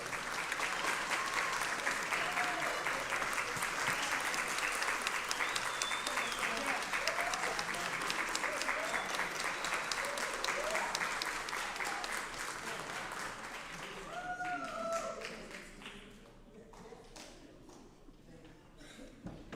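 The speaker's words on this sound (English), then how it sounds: "give him a round of applause" A round of applause at a school board of education meeting, steady sustained clapping from a roomful of people that goes on for about fifteen seconds before tapering off, with a few voices underneath.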